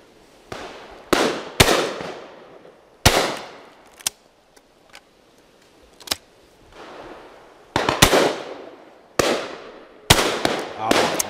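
Shotgun blasts crack out at an outdoor clay shoot, several loud reports, some in quick pairs, each with a decaying echo, spread over quieter gaps with faint background activity.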